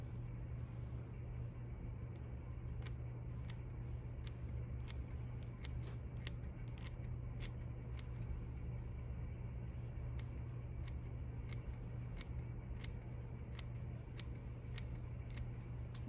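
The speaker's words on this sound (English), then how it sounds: "try to trim it down a little very gently with the curve of the scissors" Small curved scissors trim the mink fur muzzle of a teddy bear made from a fur coat, giving a quiet series of crisp, irregular snips close by over a steady low hum.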